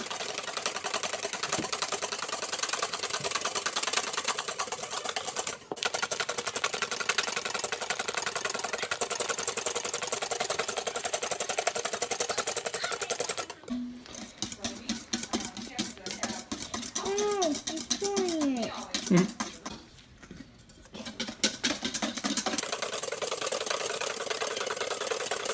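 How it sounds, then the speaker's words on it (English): Eggnog mixture with sugar is whisked toward stiff peaks with an electric mixer, a steady high buzzing whir that runs continuously, dips briefly, then shifts pitch partway through. "So now we wisp until peaks form."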